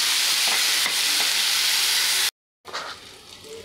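Onion and tomato frying in a pan, a steady close sizzle with a few stirring scrapes, broken by a short silent gap before the hissing resumes more softly.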